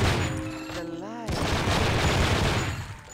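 Pistol gunfire in the video game True Crime: Streets of LA, a dense, loud burst of rapid shots with a short voice rising over it midway.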